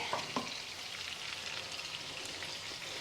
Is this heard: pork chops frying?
yes